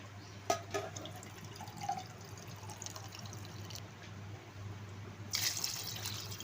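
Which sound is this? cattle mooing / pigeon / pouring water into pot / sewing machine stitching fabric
pouring water into pot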